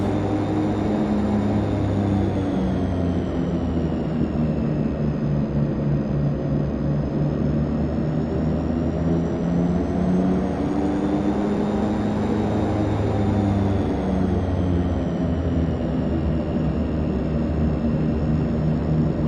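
De Havilland Canada DHC-6 Twin Otter twin turboprop taxiing in a flight simulator, a steady loud engine drone with a constant whine and slowly pulsing propeller hum, running alone throughout.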